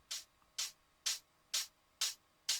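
Six bright, crisp hi-hat hits in a wide stereo tech house mix with a light stereo delay, evenly spaced about every half second, each a short airy burst with a quick decay and nothing else around it.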